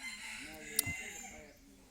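Two chickens ride in the back of a truck, giving short, faint clucks over a steady background hum, with one sharp click in the middle.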